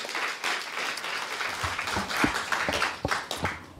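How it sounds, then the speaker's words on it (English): An audience at a human rights conference gives modest applause to welcome guests onto a stage: scattered individual claps over a soft wash of clapping, fairly quiet and uneven, rising slightly in the middle before thinning out. "You may give them a little applause."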